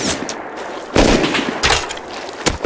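Sharp, loud bursts of gunfire in the survival game Rust, several close shots in quick clusters separated by brief quiet gaps.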